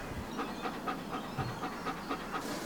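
A dog pants in quick rhythmic breaths at close range, steady and fairly soft over a low background hum, with no talking.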